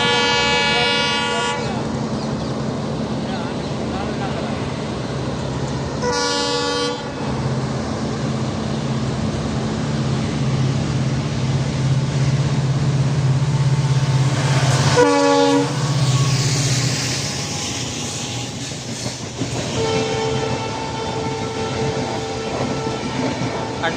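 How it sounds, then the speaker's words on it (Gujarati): A train, bound for Ramdevra, arrives and passes with loud horn blasts at the start and in the middle and a steady rumble of wheels and carriages throughout, close and strong, with no speech. "ટ્રેન આવે છે, જોવો"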